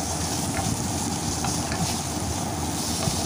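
Fish and spices with green chillies sizzle steadily in hot oil in a pan for a bhola fish curry, being stirred, a constant close frying hiss with faint scraping and no talking.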